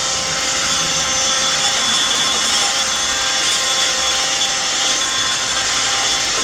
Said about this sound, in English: I've been using my heat gun.